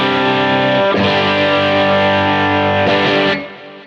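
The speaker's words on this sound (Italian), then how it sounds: "con un suono stile AC30, diciamo, dal mio Quad Cortex, voglio farvi sentire come suonano questi pick-up" A PRS SE Custom 24 semi-hollow electric guitar through an AC30-style amp tone from a Quad Cortex rings out with loud, sustained overdriven chords. Two fresh strums land about two seconds apart before the sound starts to fade.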